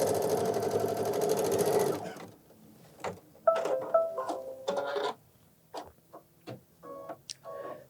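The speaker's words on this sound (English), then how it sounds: "So it's a placement stitch that we are stitching first. So stitching the outline of the bunny rabbit." An embroidery machine stitches a bunny rabbit placement outline on a mug rug project, starting with a loud continuous motor whir that stops, then gives way to scattered mechanical clicks, ticks and short whirs.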